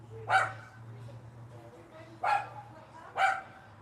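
A dog barks three times at moderate distance, single sharp barks spaced about a second apart, over a low steady hum and faint background voices.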